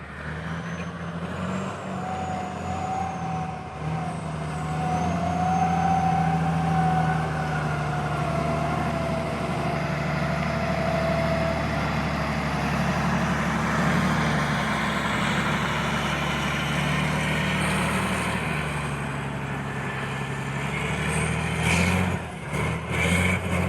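A logging truck hauling a load of logs into a logging yard rumbles loudly and steadily at close range, its heavy engine idling and droning with a sustained tonal whine and brief air-brake hiss near the end.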